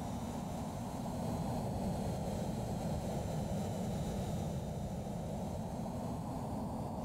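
A JW1 jetpack in Microsoft Flight Simulator throttles up for a vertical takeoff, giving a steady, loud turbine roar with a broad rushing hiss that holds constant and close throughout.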